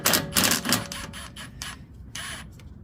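A Ryobi subcompact power tool backing bolts out of a Yard Machines Powermore 123cc snowblower, giving several short, loud whirring bursts in quick succession that fade toward the end.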